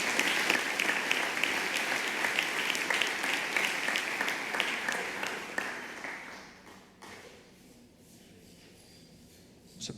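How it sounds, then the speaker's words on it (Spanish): A church congregation applauds during a Sunday morning sermon, a dense, steady roar of clapping for several seconds that thins and fades away near the end. "Dele un aplauso a Jesús."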